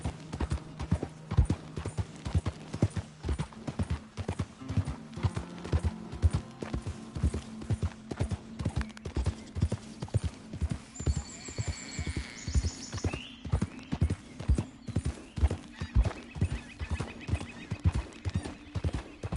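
Steady clip-clop of horse hooves trotting in an even rhythm in the video game Red Dead Redemption 2, with a brief whinny partway through and no voices.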